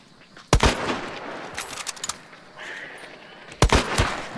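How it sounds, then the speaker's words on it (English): Gunfire in an online multiplayer shooter game, two sharp, loud shot bursts about three seconds apart with fainter rattling and game noise between them, no voices. "The shot came from like over this house here."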